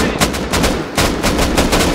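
Loud, close gunfire in the video game Rust: rapid automatic bursts of evenly spaced shots that fill the whole two seconds.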